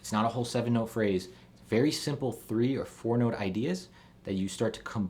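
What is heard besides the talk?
None of the usual background noises is heard.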